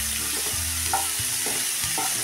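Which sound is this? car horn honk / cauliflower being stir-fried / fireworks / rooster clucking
cauliflower being stir-fried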